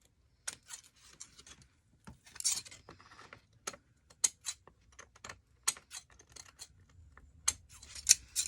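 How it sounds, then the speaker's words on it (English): Quiet, sharp snips and clicks of scissors cutting material come in irregular bursts, close by, with near silence between them. "Scissors are needing a good sharpen."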